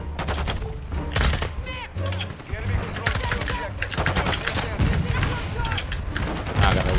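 An MX Guardian shotgun fired in a video game, with a rapid run of sharp blasts and mechanical clatter going on throughout, mixed with a player talking over the shots.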